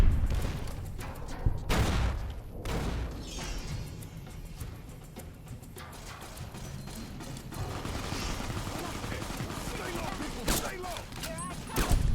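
Gunfire erupts in an ambush in Fallout New Vegas, with sharp shots and bursts spread across the scene amid scuffling and impacts, while voices talk over the fighting.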